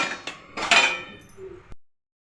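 A metal kadai pan is set down on a stove with a few sharp clanks and clinks of cookware, close and fairly loud, followed by a brief softer knock before silence.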